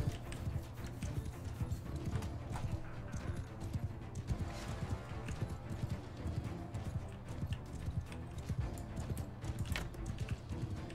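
Horse hooves clatter in a steady, dense clip-clop through a large battle in the video game Mount & Blade II: Bannerlord, with occasional whinnies over a constant low rumble of fighting, loud and continuous throughout.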